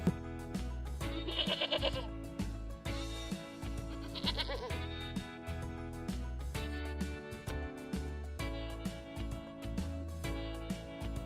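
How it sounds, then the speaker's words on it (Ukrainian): A goat bleats repeatedly in a farmyard setting, its wavering calls set over a steady, loud musical backing throughout. "Ця тварина каже ме."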